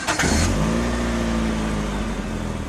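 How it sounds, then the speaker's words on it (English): A car engine cranks briefly, catches and starts, then revs up into a steady, loud mid-pitched drone that holds for a couple of seconds with no talk over it. "how do I turn on the engine?"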